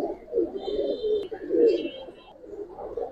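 A single red male pigeon coos in soft, low, throaty bursts close by, with a couple of faint chirps from other birds in the background.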